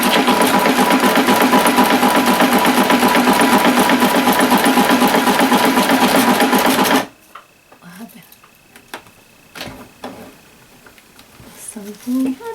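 A sewing machine runs at a steady rapid clatter while stitching a crepe paper rosette, then stops abruptly, leaving quiet handling noises and faint clicks.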